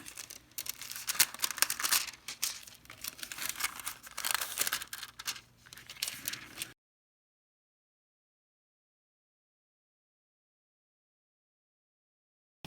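Foil backing is peeled off a leopard-print side hat, a soft crinkling, tearing rustle close by, in several short bursts before falling silent.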